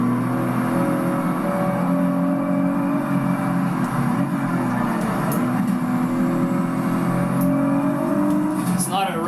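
Nissan Z Proto race car engine in the Project Cars 3 racing game on PS5, a steady sustained engine drone at constant loud level throughout, with a voice talking over it.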